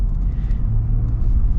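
Turbocharged 2.7-liter engine of a 2024 Ford F-150 Black Appearance pickup accelerating, a steady low rumble heard from inside the cab, continuous and moderately loud without speech.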